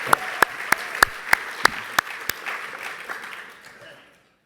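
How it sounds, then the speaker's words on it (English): A banquet crowd applauds at a grants dinner, a few sharp individual claps ringing out over softer collective clapping that thins and fades to silence. "Let's give them all a round of applause."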